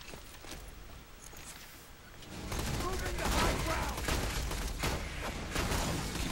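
Gunfire in Borderlands 2, a rapid volley of shots that starts quieter and swells into sustained bursts, loud and close for several seconds.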